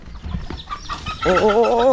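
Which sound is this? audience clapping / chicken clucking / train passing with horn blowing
chicken clucking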